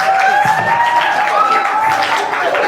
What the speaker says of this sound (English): A round of applause once more to all the participants